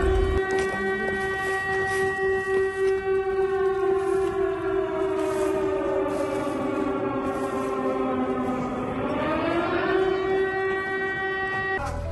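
An air raid siren wails for the whole stretch, loud and continuous. Its pitch slowly falls, then rises again near the end, against a constant low rumble.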